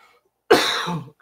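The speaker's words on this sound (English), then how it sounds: "this cough is just going to kill me" One harsh, throaty cough rises suddenly out of near silence and lasts about half a second before cutting off, loud and close to the microphone.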